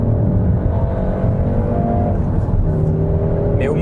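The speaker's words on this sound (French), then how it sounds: "la sonorité du moteur qui est assez quelconque, en mode normal, assez artificiel en mode sport" A 2016 Peugeot 308 GTi by Peugeot Sport, driven on a circuit, gives a loud, steady engine drone heard from close by inside the car, with the pitch shifting slightly toward the end.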